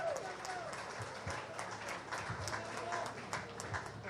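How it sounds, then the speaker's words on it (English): An audience at a racing event applauds a former racing driver, a fairly faint, steady patter of many hands clapping with scattered louder claps, heard at a distance. "How about a big round of applause for Sonny O'Sullivan that is here with us today."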